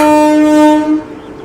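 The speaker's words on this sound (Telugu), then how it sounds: "సో వాడి నుంచి అయితే ట్రైన్ డిపార్ట్ అవుతుందండి." A Shatabdi Express passenger train at Wadi station sounds a loud, sustained tonal horn blast for about a second, which then cuts off into a softer rumble.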